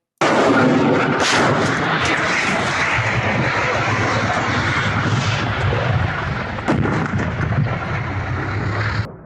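Continuous heavy rumbling blasts and booming fire from strikes in Ukraine, loud and dense throughout with no pauses, like distant shelling recorded on a phone.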